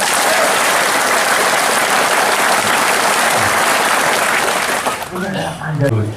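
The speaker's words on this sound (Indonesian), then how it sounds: "Ya, tepuk tangan, tepuk tangan." Loud, dense clapping from a gathered crowd at an army battalion visit in Aceh, sustained and close before tapering off abruptly at the end.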